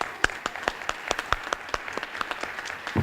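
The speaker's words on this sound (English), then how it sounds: "A shout out and a well-deserved round of applause for the city of Petaluma" Sparse, distinct handclaps ring out at a climate protection conference, a thin and fairly quiet scattering of claps at an irregular rhythm.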